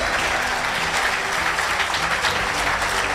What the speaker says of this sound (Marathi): एकदा तुम्ही तुमच्यासाठी टाळ्या वाजवा